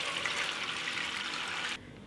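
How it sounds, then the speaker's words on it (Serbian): Hot water poured into a cooking pot holding hot jars, a steady broadband splashing pour that runs strongly for nearly two seconds and then cuts off abruptly, leaving a faint residual hiss. "I zatim u šerpu sipam vruću vodu, jer su tegle vruće, i sipat ću sve do visine poklopca."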